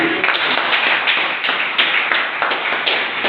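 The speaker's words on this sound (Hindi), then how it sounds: "दोनों हाथ उठा के ताली बजा के स्वागत किया" A school audience claps hands in welcome, a close, crisp wash of many hands with slightly pulsing rhythm, continuous for a few seconds without talk.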